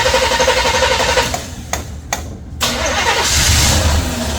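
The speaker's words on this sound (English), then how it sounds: "Why is it backfiring out the exhaust so hard?" A 1976 Chevrolet El Camino engine roars and revs loudly up close, briefly cutting out with sharp exhaust backfire pops before roaring back to full power.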